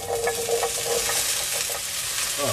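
Vegetables frying in a hot pan give off a loud, steady sizzle with light stirring clatter throughout, close to the microphone and with no talking.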